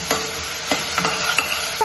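Tomatoes frying in a pan for a fish curry, with a soft sizzle beneath repeated scraping and clinking from stirring, arriving as irregular taps close by and with no voices.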